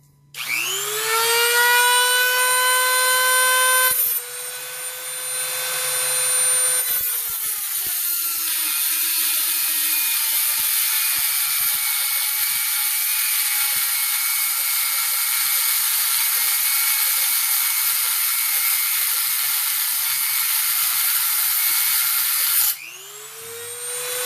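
A Dremel rotary tool with a cutoff wheel spinning at about 28,000 RPM, a loud high whine that spins up, settles into a long steady cut, then winds down and revs again at the end; no speech.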